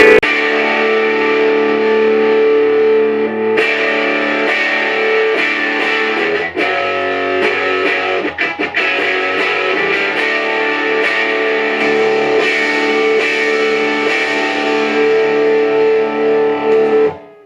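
An electric guitar plays continuously through an MXR Distortion Plus clone pedal, thick and buzzing with sustained chords and a few choppy strums, loud and close throughout.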